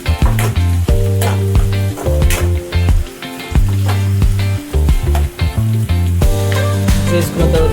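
Onions and green chillies frying in hot oil for a Telangana-style bhagara, a bright sizzle that surges and drops in bursts as the pan is stirred, close and loud, with a tonal musical backing underneath.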